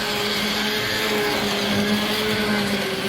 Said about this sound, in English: we're going to go ahead and use a stick blender to get this all blended together.